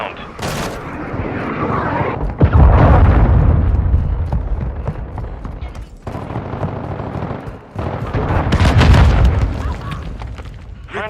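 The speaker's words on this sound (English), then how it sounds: "Friendly cruise missile inbound." A cruise missile strike lands in the Call of Duty: Modern Warfare 2 multiplayer beta, with loud rolling booms and rumbling blasts mixed with bursts of gunfire and game voice callouts.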